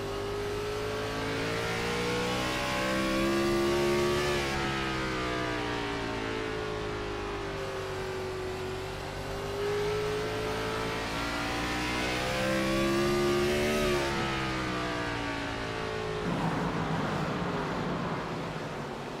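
An IROC race car at Irwindale revs hard near wide-open throttle, its engine note climbing and falling in sustained loud sweeps as it runs laps, with a continuous rising drone throughout.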